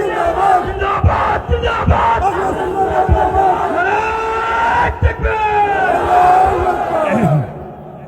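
A large crowd at a Ramadan religious gathering in Sreepur, Moulvibazar chants a slogan together in loud rhythmic bursts of massed voices, rising and falling for several seconds before cutting off.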